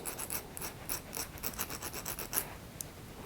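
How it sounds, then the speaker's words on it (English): A small file rasping over the sharp ends of a bead, quick close repeated strokes with a dry scratchy rhythm, quiet and without talk. "I've got a wee file, or you can use a wee bit of sandpaper, you can just take that down a bit"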